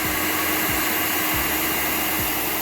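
A blow dryer running steadily up close, aimed across a wet misprinted shirt laid flat on paper, giving a loud even airy whir with faint low bumps as it is moved, and no talking.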